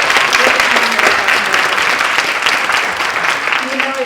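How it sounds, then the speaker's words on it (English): An audience claps steadily for an event organizer at a support-network gathering, a dense sustained round of applause heard close and loud throughout, with a few faint voices murmuring underneath. "let's give her a round of applause."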